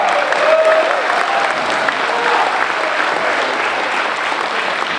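A large audience applauds a keynote speaker at a civic gathering, with loud, even, continuous clapping throughout and a faint crowd murmur beneath.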